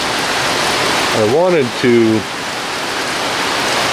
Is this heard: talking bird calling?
no